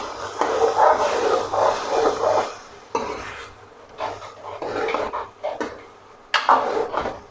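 Chopped onions get stirred through chicken and peas in a hot karahi, with bursts of scraping and scooping from a spoon against the metal and a soft hiss of steam between strokes, close and fairly loud.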